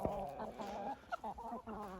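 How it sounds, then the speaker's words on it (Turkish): A young rooster in a village coop, clucking and calling in a run of short, close, tonal bursts among other fowl, with no talk over it. "Babamın getirdim dediği horoz şu galiba."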